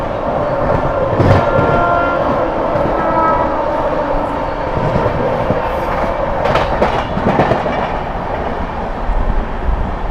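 The Mau–Anand Vihar Terminal SF Express runs loud and close through Aligarh Junction, a continuous roar of wheels with rhythmic clatter over rail joints throughout.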